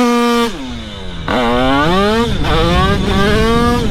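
Motorcycle engine revving and accelerating hard during wheelie practice, a loud, close, rising whine with pitch climbing in repeated surges alone without talk.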